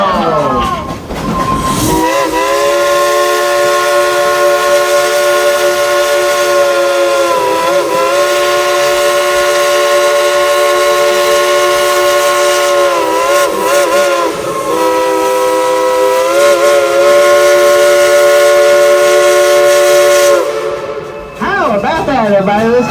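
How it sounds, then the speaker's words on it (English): A steam locomotive whistle at Dollywood in Pigeon Forge, Tennessee, blows one long, loud, steady chord for about eighteen seconds, with crowd noise around it before and after. "Blow the whistle!"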